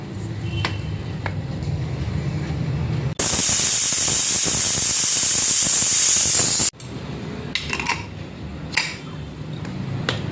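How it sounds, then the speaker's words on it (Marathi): A pressure cooker holding mixed vegetables lets out a loud, sustained high steam whistle lasting about three and a half seconds, framed by quieter kitchen clinks and hiss before and after. "आणि दोन शिट्या घ्यायच्या आहे कुकरच्या"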